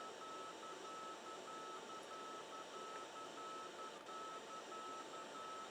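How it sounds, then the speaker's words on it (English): A warning tone in the Fly!2K flight simulator sounds as a faint, steady train of evenly spaced short beeps repeating over a low background hiss. "Something's beeping at me."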